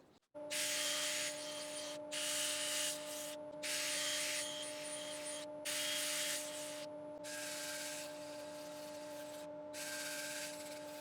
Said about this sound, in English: So again, I'll get it sanded